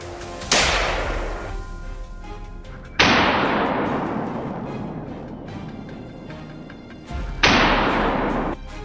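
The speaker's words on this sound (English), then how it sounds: "Moments later, gunfire erupted again, and a full-grown boar was taken down in a flash" Gunfire during a wild boar hunt: three loud, sharp shots spaced a few seconds apart outdoors, each followed by a long rolling echo that fades slowly before the next.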